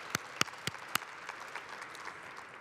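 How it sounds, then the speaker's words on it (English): A few sharp, distinct claps ring out from an audience at a national parks salute event, then give way to a thinner scatter of clapping that fades in the background. "let's clap for that."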